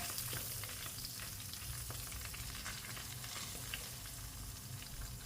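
Flour frying in plenty of ghee for halwa, giving a dense, continuous sizzle and crackle as it is stirred, steady and close with no talking.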